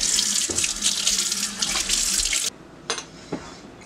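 A stirrer is rinsed under a running kitchen tap. The water gushes steadily for a couple of seconds, then shuts off, and a few brief clinks follow.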